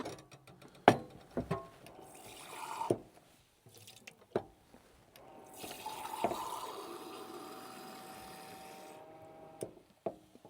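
Water runs into a kettle inside a camper van, preceded by clicks and knocks of handling, then a steady filling stream lasting several seconds, ending with a couple of sharp taps.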